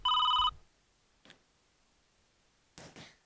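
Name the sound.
phone ringing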